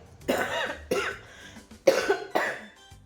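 A woman with a lingering cough coughs four times in close succession. Each cough is a dry, harsh burst close to the microphone, separated by short pauses, with no speech.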